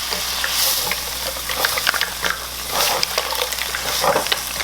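Mussels sizzling in a pan with chicken base and a splash of water, a loud steady frying hiss with scattered crackles and stirring scrapes close up, running on without talk.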